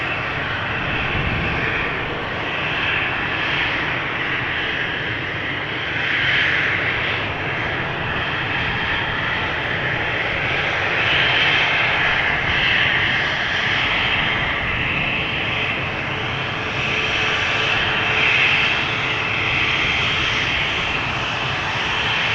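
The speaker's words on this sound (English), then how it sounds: "KLM flight 1085, Embraer 190 going to Cork, Ireland" A KLM Embraer 190 jet departs on the Polderbaan at Amsterdam Schiphol, its steady, loud engine roar holding for the whole stretch without breaks, and no voices are heard over it.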